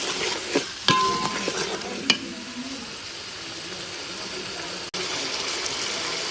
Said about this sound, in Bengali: আদা বাটা, দিচ্ছি সামান্য জল। এখন কষিয়ে নেব।